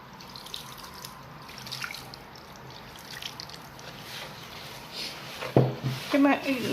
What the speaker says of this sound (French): Et on commence par mouiller notre pâte avec de l'eau petit à petit.